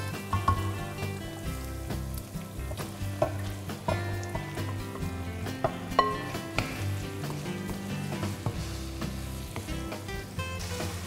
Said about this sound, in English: When the rempah is ready again, we put in our fish fillets